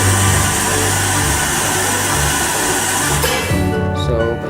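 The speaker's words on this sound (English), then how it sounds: "So we'll start the PIAB up." A loud, steady mechanical whir of a PIAB vacuum conveyor runs continuously, then its pitch and character shift near the end as the machine changes state.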